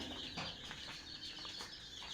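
Chickens cluck beside a homemade egg incubator, with a steady murmur of fowl sounds and some faint wing rustling filling the short stretch and no speech.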